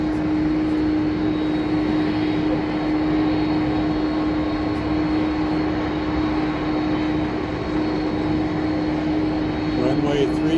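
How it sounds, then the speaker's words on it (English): British Airways Boeing 787 airliner on short final approach to runway 34 right at Seattle, heard from the ATC tower as a steady, fairly loud engine roar with a sustained tonal hum and wind-like noise. "we got British Airways 787 on final, short approach"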